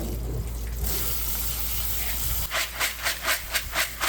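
Running water pours steadily over beans being rinsed, a continuous close hiss that then breaks into uneven splashing surges.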